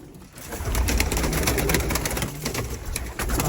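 Mardin pigeons coo steadily at close range, a low, continuous throaty burble that fills the whole stretch without any voices.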